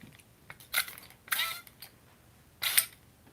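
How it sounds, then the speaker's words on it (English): A spray bottle is squirted at a misbehaving cat indoors: three short hissing spritzes, close and crisp, with small mechanical clicks in between. "You know what the spray sound means, sir?"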